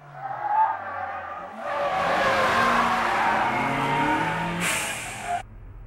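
A Honda Civic EG6 corners hard at high speed, its tires squealing in a long sustained screech over the roaring engine, rising sharply near the end before cutting off.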